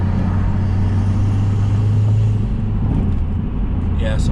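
A Mazdaspeed3 engine pulls at higher RPM on the road, a steady loud low rumble of engine and road noise that eases slightly toward the end.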